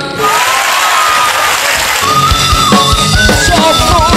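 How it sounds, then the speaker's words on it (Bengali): Loud applause and cheering from a crowd at a Bengali student celebration for exam results, filling the first two seconds before a band begins playing music over the continuing clapping. "তোমাদের জন্য জোরে একটা তালি।"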